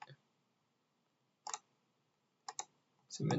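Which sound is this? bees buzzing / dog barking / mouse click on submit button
mouse click on submit button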